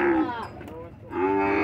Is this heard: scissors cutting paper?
no